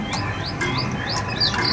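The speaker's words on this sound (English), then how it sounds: "You've got a lot of birds." Birds chirping in the Adventureland Treehouse attraction at Disneyland, a few short rising tweets repeating about every half second over a steady bed of insect-like buzzing and ambient attraction sound, no talking.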